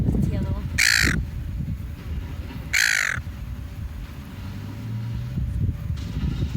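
A greedy, dominant seagull gives two loud harsh calls about two seconds apart, close by, over steady outdoor background rumble.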